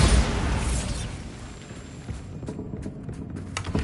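A Bombarda blasting spell goes off in Hogwarts Legacy, opening with a loud broadband blast whose rumble slowly decays, followed by scattered debris clatter and small crackles.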